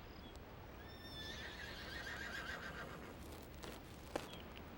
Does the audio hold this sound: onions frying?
no